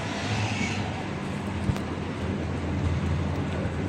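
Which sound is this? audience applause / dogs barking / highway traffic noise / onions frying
highway traffic noise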